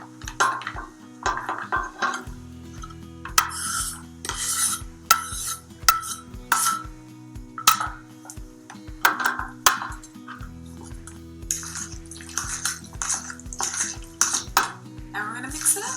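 A spoon works chopped white onion into mashed avocado for guacamole, making close, irregular clinks and taps against the bowl with soft squelchy stirring between strikes.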